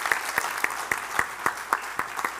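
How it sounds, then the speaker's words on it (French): An audience claps for a three-person jury at a live gladiator presentation, a steady round of applause with sharp individual claps standing out against the crowd, no voices over it. "Vous pouvez applaudir."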